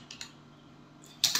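Brief bursts of computer keyboard typing, a couple of quick clicks near the start and a louder cluster of keystrokes at the end, separated by a quiet pause.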